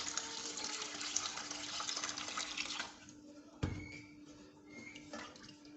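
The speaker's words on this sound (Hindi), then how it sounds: "अब हम इसमें तकरीबन आधा जग पानी का ऐड कर देंगे।" Water poured from a jug into a pan of beef kofta curry, a loud steady splashing stream that stops partway, followed by quieter bubbling and a sharp clink.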